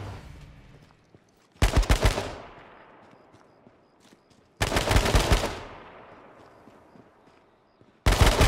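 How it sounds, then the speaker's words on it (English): Video game gunfire from several shooters, three loud close bursts of rapid automatic fire, each trailing off into a fading echo with quiet gaps between. "Why am I getting shot by multiple people?"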